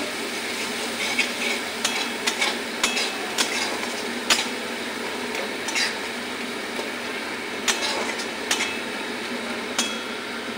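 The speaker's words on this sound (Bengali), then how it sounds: "মশলাটা ভালো করে কষে নিই।" Spice masala stir-fried in a pan for a chicken curry, a steady sizzle broken by sharp clinks and scrapes of the spoon against the pan at irregular intervals, close and fairly loud.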